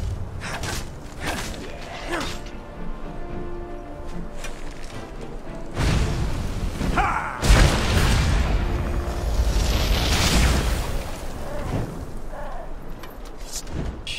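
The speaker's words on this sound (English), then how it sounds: "This fire spell is pretty good." Deep whooshing booms of fire spell explosions in the video game Enderal, several bursts landing in loud waves over a rumbling battle backdrop.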